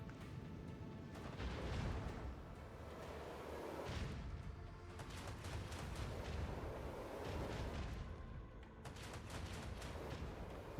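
Torpedo explosions in the space combat of the video game Rogue Trader form a dense, continuous rumble of booming blasts and crackling debris, steady and loud throughout with no talking.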